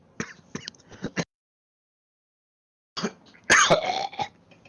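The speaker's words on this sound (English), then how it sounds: "He coughs violently." A burst of harsh, violent coughing, a pause of silence, then another loud, rasping fit of coughs.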